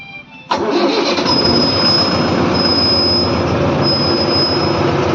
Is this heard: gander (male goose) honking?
no